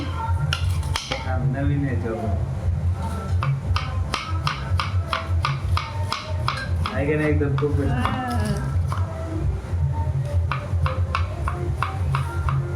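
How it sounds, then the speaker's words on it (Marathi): A knife chopping onions on a board while making pav bhaji for a crowd: fast, close, rhythmic taps in quick runs, with people talking over it. "मला इथं कांदा कापायची टेक्निक शिकून घ्या सगळ्यांनी"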